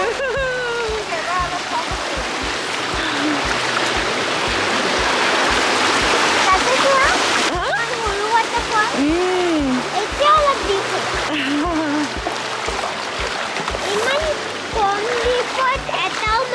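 Water at Kakochang waterfall in Assam splashes and rushes steadily along the stream throughout, a dense, loud wash with voices and birdlike chirps scattered over it.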